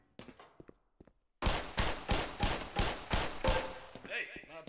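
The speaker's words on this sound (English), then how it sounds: "Put 7 rounds in the center ring of each target." Pistol shots at firing-range targets in the Black Mesa video game: seven sharp, evenly spaced shots, loud and close, after a few faint clicks and handling sounds, ending in a brief mechanical rattle.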